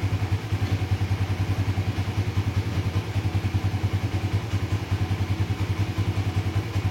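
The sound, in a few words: motorcycle engine started and idling, Aracer ECU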